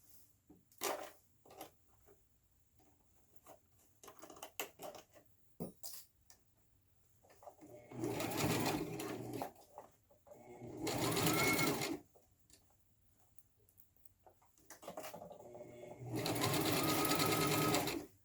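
A sewing machine stitching a frontal wig runs in three loud sustained bursts of dense mechanical whirring, each lasting a couple of seconds, separated by quieter stretches of small handling clicks and taps nearby.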